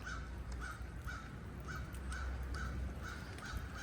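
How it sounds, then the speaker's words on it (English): A crow or raven caws repeatedly, its harsh calls coming in a steady series at a middle distance over a constant background of rain and sleet. "That's either a crow or a raven that's screaming like that."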